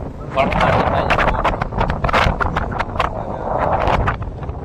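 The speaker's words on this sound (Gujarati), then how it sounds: "વરસાદ બંધ થઈ ને પવન ફૂલ નીકળી આવ્યો છે" Strong wind gusts roar across a microphone on a small fishing boat after rain, a steady loud buffeting rush with sharp crackling bursts throughout, while a person talks under the noise.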